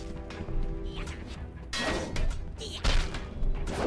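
In the VR sword-fighting game Battle Talent, a thrown weapon strikes an enemy with a couple of sharp, heavy thuds and crashes over a low background bed.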